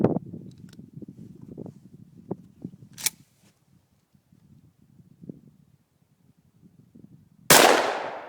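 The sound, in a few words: Dominion Arms Grizzly shotgun firing number 4 shot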